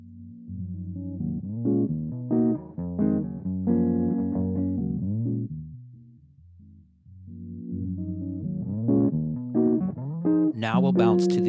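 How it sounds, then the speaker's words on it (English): Melodic music runs through the NativeAudio Niisoo harmonic equalizer plugin in low pass mode at its lower bound: loud, sustained dull tones, a brief dip around the middle, then a brighter rising sweep near the end, with no talk. "When in low pass mode, the lower boundary sounds like this."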